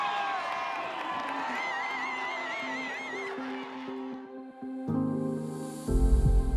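A record crowd cheers at a home Wales women's rugby Six Nations match, a broad roar of voices and whoops carrying throughout, with louder bursts and rumbling near the end.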